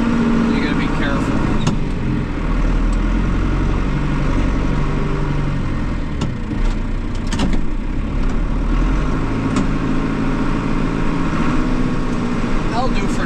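A compact loader tractor runs continuously while pushing material across a concrete pad, a loud, close engine drone with low rumble and occasional clanks, and someone talks throughout.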